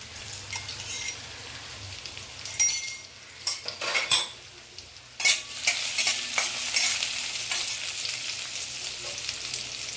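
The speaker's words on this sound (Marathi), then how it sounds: "आपण लसूण फोडणीला टाकून घेतलेला आहे." Garlic tempering in hot oil for a spicy dry capsicum (shimla mirch) dish, with steady sizzle and frying crackle, plus loud bursts of spoon stirring and metal clinks against the pan midway.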